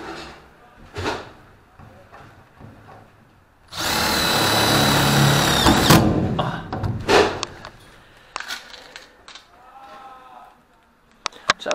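A power drill drives screws through pre-drilled holes while fitting ventilation on a farm, a loud continuous whirring burst of about two seconds, with speech and shorter clatters before and after.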